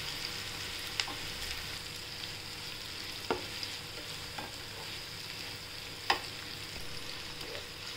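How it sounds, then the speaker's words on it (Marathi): Onions sauté in a pan for kanda batata poha, a steady low sizzle of frying throughout with a few sharp clinks of a spoon stirring against the pan, close and alone. "आपण आता थोड्या वेळेला परतून घेऊया."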